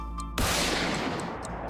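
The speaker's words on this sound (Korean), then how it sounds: "그리고 한참 뒤 울린 한 발의 총성" A single rifle shot fired on a hill outside a rural South Korean village in Yeongam, a sudden sharp crack followed by a long, fading decay.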